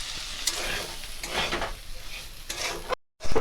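Semolina fried earlier is stirred into boiled potatoes, carrots and other vegetables in a pan for a spicy suji dish, a steady near scraping and sizzling with a short silent gap near the end.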